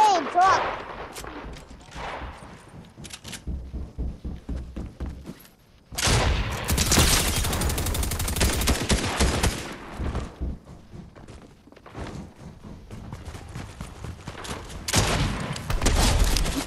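Gunfire in Fortnite comes in loud, close bursts of rapid shots, with a dense volley in the middle and scattered shots later, while players talk over the action.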